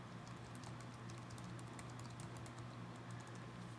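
Computer keyboard typing as blog post content is entered in the WordPress editor, a quiet, fast run of light clicks continuing steadily over faint room hum, with no one speaking.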